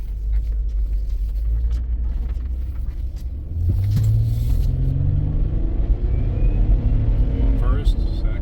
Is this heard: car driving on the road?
yes